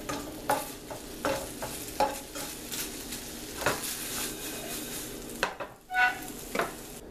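Chicken pieces for a low-fat buffalo lemon dish fry in a pan, a soft steady sizzle broken by repeated utensil scrapes and taps as they are turned, close by.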